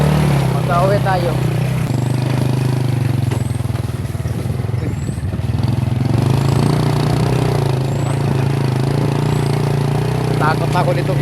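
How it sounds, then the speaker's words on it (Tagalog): A motorcycle engine runs with a steady, close low rumble for the whole stretch while people talk over it. "Kala ko hindi kaya ng motor eh."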